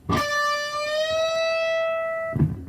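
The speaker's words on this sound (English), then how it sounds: "So the way I can do that is bend it up." A sustained electric guitar note rings out, its pitch gliding steadily upward and holding, with a bright, harmonic-rich tone, ending with a short pick attack.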